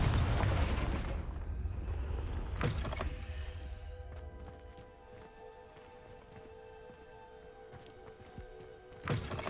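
Confringo blasting spell in Hogwarts Legacy: a heavy booming blast at the start that decays into rumbling debris, followed by a couple of sharp thuds and a lingering tonal hum.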